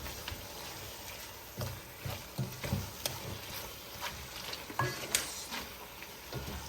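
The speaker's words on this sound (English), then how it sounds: "So this is the smoked turkey first that I'm putting in here." Seasoned, steamed smoked turkey meat going into a pot of Liberian collard greens, with soft stirring scrapes and low thumps that come up irregularly against a quiet, steady sizzle close by.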